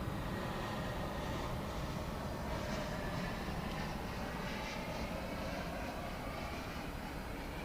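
A Frontier airliner at DFW Airport at night makes a steady, broad engine roar that holds at an even, moderate level throughout, heard from a distance with no voices.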